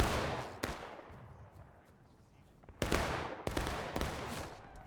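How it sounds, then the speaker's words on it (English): A musket volley in the Civil War battle game War of Rights, on the Bloody Lane map: dense rolling bursts of gunfire with sharp cracks, a lull, then another heavy ragged volley, distant and echoing over battlefield noise. "Another nice volley there."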